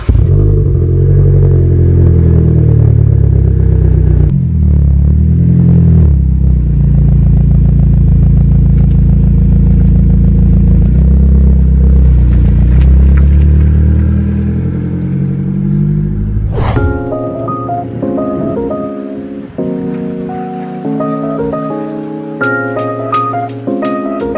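Volkswagen Scirocco engine running loud and close with deep rumbling and revving for about sixteen seconds, then dropping to a lower, steadier idle with some clatter.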